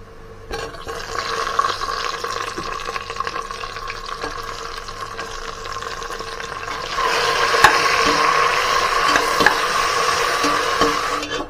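Tomatoes go into onions frying for chicken biryani, a continuous crackling sizzle with stirring scrapes that grows louder and wetter partway through, close up and with no voices.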